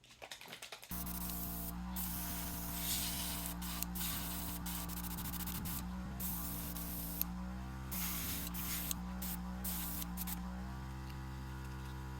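Steady hiss of spray paint applying pearl silver to a wheel, continuous and close, with brief pauses and a faint mechanical hum underneath.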